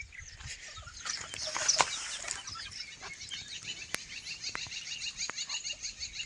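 Free-range village chickens cluck and chatter in a hillside farm shed, a soft continuous murmur of several birds with occasional sharper calls, moderately distant and without talk.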